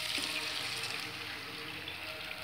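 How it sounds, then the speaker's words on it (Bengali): Stock water poured into simmering mutton rogan josh masala, a steady rushing, hissing splash of liquid over the pot, continuous and fairly even from start to finish with no talking. "এবার আমি এর মধ্যে স্টক ওয়াটারটা দিচ্ছি।"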